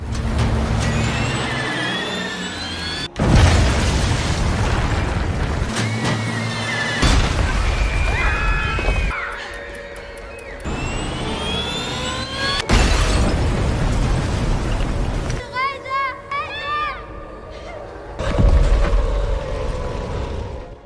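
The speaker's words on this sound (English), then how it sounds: "They began bombarding the building without any hesitation." A film scene has a building under bombardment. Loud, booming explosions and deep rumbles break out across abrupt cuts, along with whistling and screeching sweeps as shells come in.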